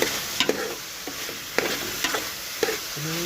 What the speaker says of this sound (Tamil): நல்லா வெங்காயம், தக்காளி, பச்சை மிளகாய், கருவேப்பிலை எல்லாம் போட்டு நல்லா தாளிக்கணும்.